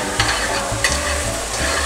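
Onions frying in olive oil in a pot as they are stirred: a dense, loud, steady sizzle with quick stirring scrapes and light clatter throughout, close up and with no talking.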